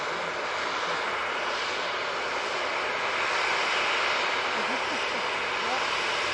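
A Ryanair airliner taxis at Manchester Airport with its jet engines running, giving a constant, loud, broad roar close by, with a voice faintly beneath it.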